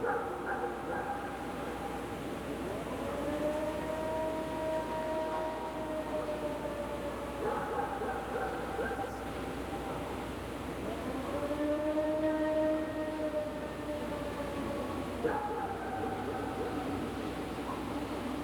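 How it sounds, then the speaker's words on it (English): The Ohio Howl, an alleged Sasquatch long howl recorded in 1994 in Columbiana County, Ohio: drawn-out, wavering tonal howls rise and fall in three long calls over a dull background hiss, distant and moderately faint. "The most well-known long howl is an audio clip called the Ohio Howl"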